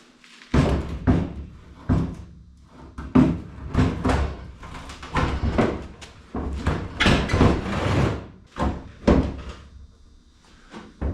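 Repeated clunks, knocks and rattles of a car door being fitted on a budget 1951 Ford rat rod with suicide doors, irregular metallic thuds close up over about ten seconds, no talk.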